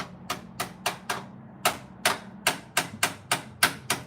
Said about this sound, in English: Can we hit it with a hammer? Well, yeah, we can. Very, very gingerly.